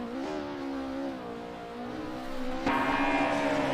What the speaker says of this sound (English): we hear the turbo flutter of the cars in front